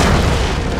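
A single deep, loud boom from a thunder thump attack in the PJ Masks cartoon, a brief, full, rumbling blast with nothing else heard.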